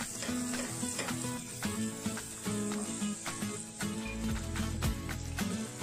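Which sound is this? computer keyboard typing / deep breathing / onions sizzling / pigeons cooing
onions sizzling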